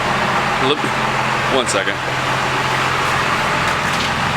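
Duramax and Cummins diesel pickup trucks idle with a steady, close, continuous low rumble, while someone talks briefly over it.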